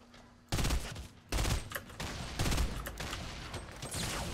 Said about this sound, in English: I don't know who this guy's shooting grenades at.